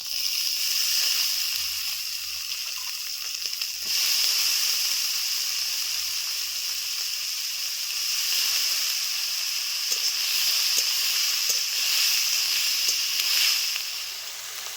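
Potatoes and eggplant frying in a wok with mustard oil, onions and cumin, a steady close hiss with a few small ticks and clinks, rising and falling gently and no talking.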